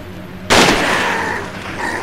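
A single loud, close gunshot in the horror video game Forbidden Siren, a sharp blast followed by a long ringing decay, set over a low game backdrop.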